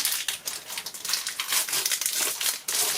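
A foil wrapper crinkles sharply as a Pokémon card booster pack is torn open, a close, busy run of crackles and rustles with no speech.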